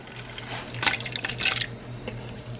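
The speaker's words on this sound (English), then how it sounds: "So we have a small can of diced tomatoes in the pantry, so we're just gonna throw that in there." Canned diced tomatoes pour from a small can into a pot of chili, a brief wet glugging and splashing burst lasting about a second, close and moderately loud over a low steady background hum.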